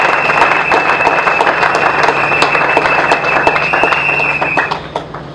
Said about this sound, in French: je voudrais que tous ensemble, nous puissions nous applaudir